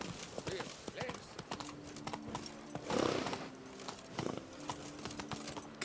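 Roach the horse's hooves clip-clop steadily across ground in The Witcher 3 video game, a continuous trotting rhythm heard close by, with someone talking over it.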